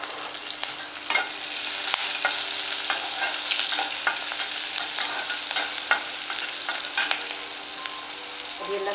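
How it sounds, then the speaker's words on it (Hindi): Green chilies and moringa (drumstick) leaves sauté in a hot pan, giving a steady close sizzle and frying crackle with scattered stirring clicks throughout, no talking. "हरी मिर्ची भी थोड़ी सौते कर लेंगे"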